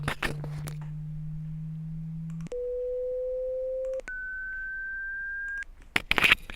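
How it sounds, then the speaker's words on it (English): Pure sine wave tone played alone in three steady steps, each rising in pitch over a few seconds, clean and unbroken against a faint background, bracketed by brief noise at start and end. "You can definitely hear that sine wave,"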